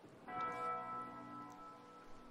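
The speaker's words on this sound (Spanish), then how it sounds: "Repica una campana por ahí." A large bell rings once in Tomb Raider Chronicles on the gallows tree level, then hums with a long, shimmering tone that fades slowly over the rest of the clip.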